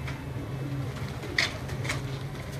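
Salare pigeons bred from Teddy stock coo softly in a loft, a few low murmuring calls over steady background hum, with brief brighter chirps from nearby birds.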